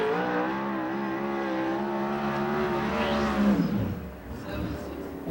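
USAC/CRA sprint car on a qualifying lap at Perris, California, with a loud high-pitched engine howl that climbs, then drops sharply as the car passes and fades. An announcer speaks over it.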